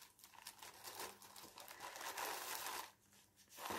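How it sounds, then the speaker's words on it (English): Plastic packaging around embroidery floss crinkles and rustles in irregular bursts, faint and close with no voices. "Sorry for the crinkling."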